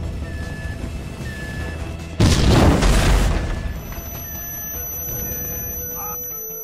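An explosion in the video game GTA V: a loud, sudden boom that roars for over a second before decaying into a steady background drone with faint electronic tones.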